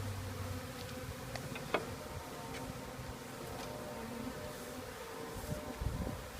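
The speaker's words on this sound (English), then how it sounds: "just pouring a whole bunch of bees into this thing" Swarm of honeybees buzzing as they are poured and brushed into a hive, a faint, steady hum with scattered soft ticks and knocks.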